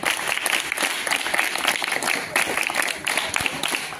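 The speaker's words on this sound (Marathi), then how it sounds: "त्यासाठी या ग्रुपसाठी टाळ्या उद्या बरं" Children at a school activity clap together for a group, a dense, steady burst of applause that carries on at close range for several seconds.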